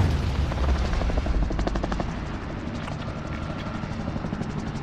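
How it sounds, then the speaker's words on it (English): A helicopter in Warzone, a shooter video game, thunders close overhead with fast, regular rotor thumping, loud at first and easing slightly as it passes, with no talk. "I nearly hit that other helicopter flying over."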